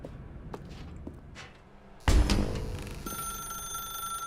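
A telephone ringing in The Stanley Parable video game, a sharp electronic ring that starts suddenly after a stretch of faint room noise and a few soft thuds, then keeps sounding steadily near and clear.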